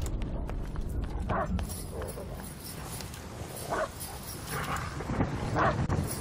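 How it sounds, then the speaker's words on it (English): An enemy guard dog in the video game Call of Duty: Vanguard gives several short barks and yips spaced a second or two apart, mid-distance, over a busy bed of game noise with voices present. "Enemy guard dog on the prowl."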